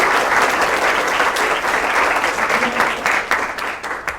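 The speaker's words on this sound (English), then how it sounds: "let's give a big round of applause and welcome to the podium Rica's mom" A crowd claps warmly as a student's mother is welcomed to the podium at a letter-of-intent signing, dense, even applause that thins slightly toward the end.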